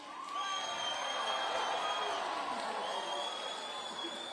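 A crowd at a live heritage dance performance breaks into cheering and applause, a broad swell of clapping, whoops and shouts heard at a distance, rising then easing off slowly.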